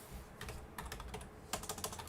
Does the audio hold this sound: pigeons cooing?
no